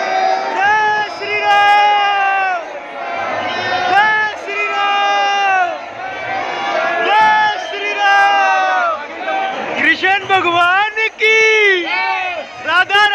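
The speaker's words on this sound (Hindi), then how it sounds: "इतनी भीड़ यार कैसे।" A large crowd at Mehandipur Balaji temple at night, many voices rising together in loud, continuous chanting and shouting that swells and falls in waves, with sharper cries near the end.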